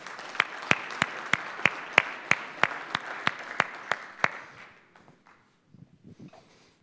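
Rhythmic, slow unison clapping at a panel event on African low-cost airlines, about a dozen sharp claps in a steady beat that stop, followed by faint movement and quiet voices.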